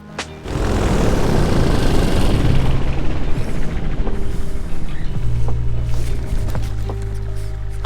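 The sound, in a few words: light aircraft coming in to land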